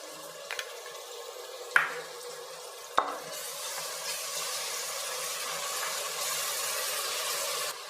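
Ginger garlic paste sizzling in a hot pan for green biryani, a steady bright frying hiss after two sharp clinks as the paste goes in, no talking.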